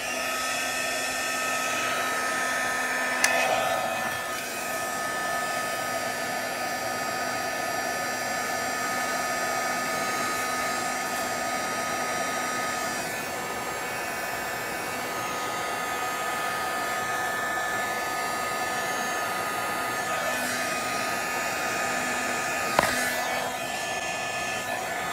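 A heat gun blows hot air over a watercolor journal page, a steady, loud whooshing drone that holds evenly for the whole stretch, with a couple of faint clicks and no talk.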